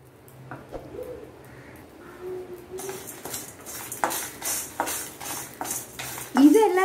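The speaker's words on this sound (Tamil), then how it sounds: "இது எல்லாத்தையுமே வறுத்து எடுத்துக்கலாம்" Dried chillies, rock salt and garlic cloves dry-roasting in a kadai: quiet at first, then a brighter crackle with repeated metal stirring scrapes and clinks up close, and a brief voice at the start.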